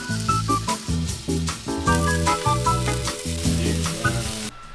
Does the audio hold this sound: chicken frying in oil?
yes